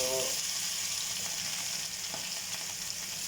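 Fish fries in a pan with a steady, close crackling sizzle and hiss, a faint clatter near the start, continuous throughout and without speech.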